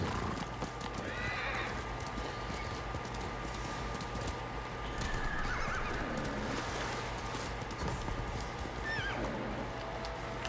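In the video game Ghost of Tsushima, a horse neighs and whinnies several times over steady clip-clopping hooves and a constant background hum, moderately loud throughout.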